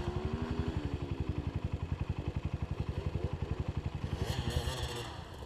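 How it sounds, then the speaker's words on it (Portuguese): Honda CRF 230 dirt bike accelerating on a steep trail, a rapid, steady engine thump pulsing close and loud, with clattering and scraping over it and a bright burst of noise near the end. "Acelera, KT!"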